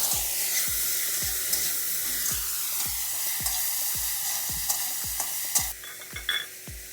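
Tomatoes and three green chillies fry in a pan under a constant close sizzle, with a spoon tapping and scraping the pan in an even rhythm roughly twice a second, ending in a few louder clanks, no voices.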